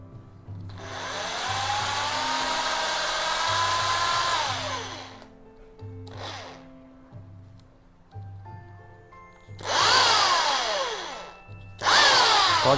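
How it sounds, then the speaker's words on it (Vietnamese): A Makita electric drill runs in normal drilling mode, whirring loudly for several seconds, then stopping. It gives a short burst and then two more strong runs, with no talking. "Test chức năng khoan thường."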